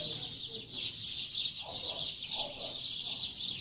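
Birds call from a mango tree in the background, a steady chorus of high chirps and a few clucking fowl sounds, faint and distant with no close voices.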